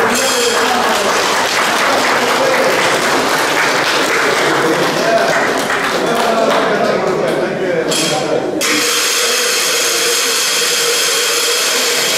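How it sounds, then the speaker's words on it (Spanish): Loud, sustained applause from a large crowd at an outdoor Mass for the Virgen de las Nieves fills the whole stretch, its texture shifting slightly near the end. "Un aplauso para la Virgen de las Nieves."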